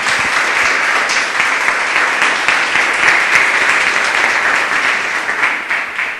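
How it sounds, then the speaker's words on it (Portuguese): A church congregation applauds in steady, dense clapping that carries unbroken for several seconds, loud and filling the room, with no speech over it. "Palmas para o Senhor."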